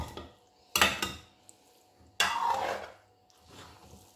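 Whole green chilies being mixed into mash daal (urad lentils) in a pot, heard as two bursts of spoon clatter and scraping against the metal pot with a few light knocks between them, no voices.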